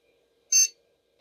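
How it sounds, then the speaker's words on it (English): A single short electronic POST beep from a vintage motherboard, bright and clear, lasting a fraction of a second against near silence. "We have post beep."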